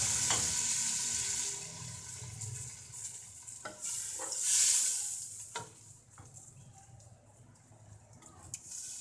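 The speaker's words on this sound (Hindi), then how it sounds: "अब मैं इसमें लहसुन डाल दूँगी" Garlic added to browned onions frying in a pan for chana masala, a steady crackling sizzle with stirring scrapes and a brief hissing surge midway, close and moderately quiet, with no voices.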